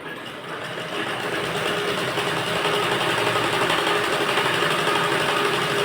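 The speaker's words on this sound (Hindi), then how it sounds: "अब हम देखिए इसे नीचे से इसको यहाँ से स्टिच करेंगे" A sewing machine stitches a blouse in a fast, even whirring run that starts slightly softer and then holds steady and close throughout, with no talking.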